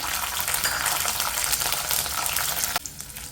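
Chillies, fenugreek and shallots fry in a pan for a chilli and onion chammanthi, giving a steady, loud close sizzle with faint stirring; the sizzle drops off abruptly near the end.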